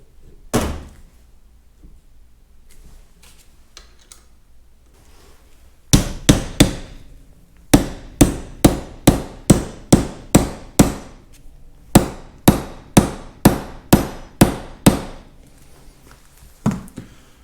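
A pin is hammered into a steering shaft assembly, joining the upper shaft to the long lower shaft: one early metallic strike, then a rapid, evenly spaced series of sharp, close hammer blows in bursts, with quiet pauses between.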